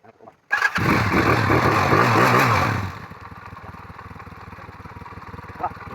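A motorcycle engine under repair, with a faulty starter coil, sputters and catches, roaring loudly and close for about two seconds before settling into a steady idle.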